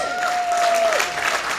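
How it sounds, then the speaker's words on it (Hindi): A crowd at a leadership meet in Indore claps in steady applause to welcome a speaker, with a thin tonal whistle of feedback running over the clapping early on. "जोरदार तालियों के साथ तो स्वागत कीजिए सर"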